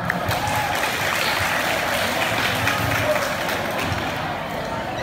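Audience applause welcomes a contestant at a university student contest, a continuous, fairly loud spread of clapping from a crowd in a hall with murmuring mixed in.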